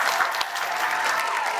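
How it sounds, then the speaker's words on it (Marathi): Studio audience at a Marathi women's game show breaking into loud, dense applause, a continuous burst of many hands clapping close by with no talk over it. "जोरदार टाळ्या"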